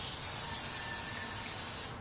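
Baking spray hisses from an aerosol can in one steady, close burst lasting about two seconds before cutting off.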